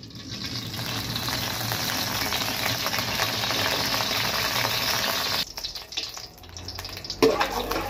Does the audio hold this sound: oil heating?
yes